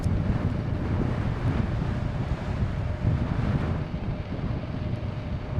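Electric scooter at full speed in freezing wind, steady loud wind buffeting and low rumble across the whole stretch, no talking.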